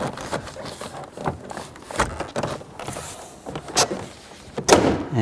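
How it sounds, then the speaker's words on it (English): A Chevy Tahoe door panel is slid into position, giving repeated plastic scrapes, rubs and soft knocks in irregular bursts, close by, with no talking. "And slide the door panel in position."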